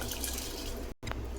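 Washed, drained rice tipped into a pot of boiling water in a home kitchen, giving a soft watery rush and bubbling, with a brief cut and then a faint splash.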